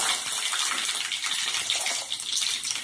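Curry leaves and mustard seeds sizzling in hot oil, a steady, bright crackling hiss that runs unbroken and fairly loud with no voices.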